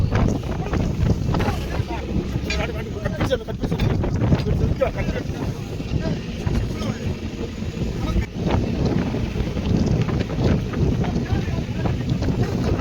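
Strong wind buffets the microphone on open water on a stormy morning off Kanyakumari, with a trawler's churning rumble and splashing underneath as nets are set, and voices faintly mixed in.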